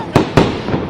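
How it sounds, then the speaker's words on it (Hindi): Firecrackers burst in celebration at a wrestling akhara, two sharp loud bangs in quick succession followed by a fainter crackle. "उनकी जीत पर हर अखाड़े में पटाखे फूट रहे हैं।"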